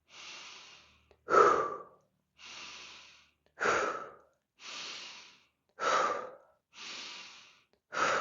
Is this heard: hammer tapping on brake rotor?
no